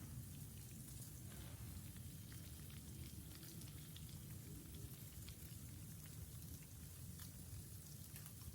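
Sleet falling outside during January 2026 Snowstorm Fern, a steady dense hiss of ice pellets and rain pattering on surfaces with a low continuous rumble, even and unbroken for the whole stretch, no voices.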